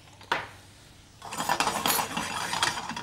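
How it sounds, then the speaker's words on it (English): Salad dressing with garlic and mustard being mixed in a bowl in a TV studio kitchen: a sharp clink, then a steady run of scraping, clattering utensil-against-bowl strokes, close and fairly loud, with no talking. "I'll mix that well."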